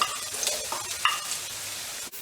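Garlic and onion fry in hot oil in a pan, giving a steady, close crackling sizzle with a few brief stirring scrapes, no voices.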